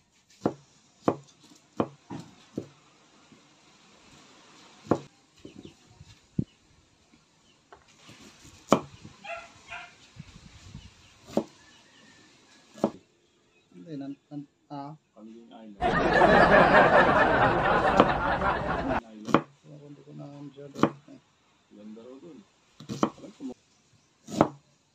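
Knife chopping onion, garlic and ginger for native chicken binakol, sharp isolated chops spread out, then a dense, loud stretch of rapid chopping, with someone talking and a dog whimpering and barking in between.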